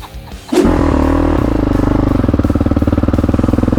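A four-wheel quad ATV engine on a track fires up loudly and holds a steady, pulsing rev close by, its throbbing exhaust note continuing without talk.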